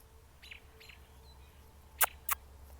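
A robin gives two sharp, close chirps in quick succession, set against a quiet outdoor background with faint softer calls earlier.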